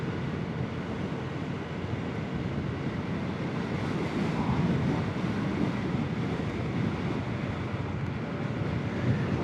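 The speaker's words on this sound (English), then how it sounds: "it's going to be a bit windy here" Steady, heavy wind buffeting a microphone on a ride to Amberley, a continuous roaring rush with no voices, loud and unbroken throughout.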